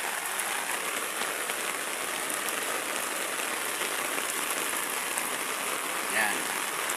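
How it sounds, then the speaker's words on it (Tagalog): Heavy typhoon rain pours steadily amid local flooding, a dense constant hiss of drops on surfaces, with no letup. "Sobrang lakas ng ulan dito guys."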